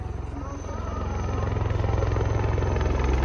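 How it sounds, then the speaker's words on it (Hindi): A VIP helicopter flies near Kedarnath, its rotor beating in a fast, steady, loud chop that swells as the craft draws closer. Background voices run underneath. "ये देखो भाई, VIP हेलीकॉप्टर जा रहा है"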